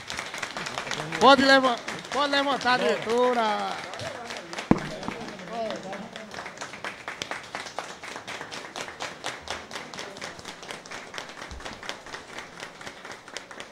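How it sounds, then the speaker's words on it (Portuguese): Clapping in a municipal council chamber session, scattered and uneven, with loud voices over it early on and then thinning hand claps that carry on at a steady pace. "Uma salva de palmas."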